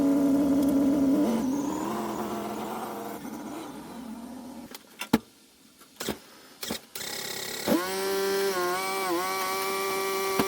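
An MGB GT being driven and repositioned at an MOT test, its engine note running steadily and shifting pitch as it moves, broken by a few sharp knocks and a quieter gap before the engine note returns clearly.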